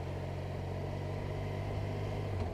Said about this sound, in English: It's a boxer engine.